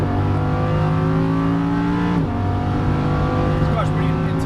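A Lamborghini Huracan LP610-4 on a race track roars loudly and close, its engine note steady and dense with a brief dip and gear change around the midpoint before pulling hard again.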